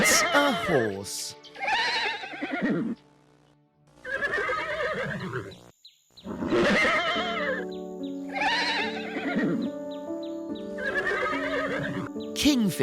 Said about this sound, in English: Horse. It's a horse.